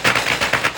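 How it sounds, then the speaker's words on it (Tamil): Firecrackers set off at the Big Buddha temple in Phuket, a rapid crackling string of sharp pops bursting in quick succession, loud and close for under a second. "இந்த மாதிரி வெடி வெடிக்கிறதுக்காக போட்டுடுறாங்க"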